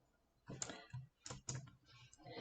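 Keystrokes on a computer keyboard come in a few quick clustered bursts of close, quiet clicks with short pauses between them.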